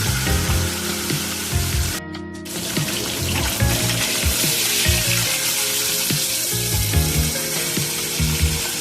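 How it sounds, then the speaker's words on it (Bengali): Sole fish fries in hot oil in a home kitchen. A dense, continuous sizzle comes from close by, broken by clinks and light knocks of utensils and a brief dip partway through, with no talking. "মাছগুলো আমি তেল গরম করে ভেজে নিচ্ছি"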